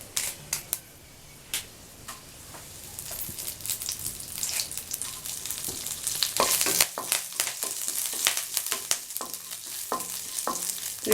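Dried red chillies and curry leaves frying in oil, crackling and sputtering harder partway through, with repeated scraping of a spoon against the pan, close and fairly loud.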